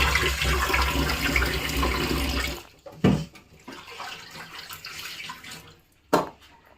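Water is poured into a pot of potatoes in a home kitchen in a loud, splashing rush for a few seconds. It stops abruptly and is followed by quiet handling and two sharp clunks.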